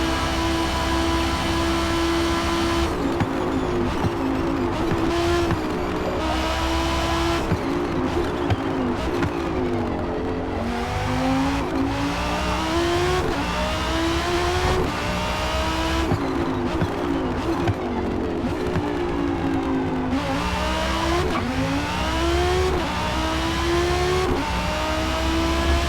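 Sustained, loud engine note from an Audi R8 V10 Performance racing through a one-hour distance challenge, rising and falling with repeated upshifts and downshifts, close and continuous with no talk.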